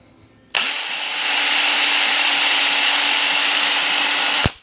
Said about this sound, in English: and then continue drilling.